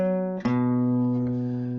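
Guitar sounds a sustained power chord shape from a riff, with a brief pick attack partway through, close and ringing alone.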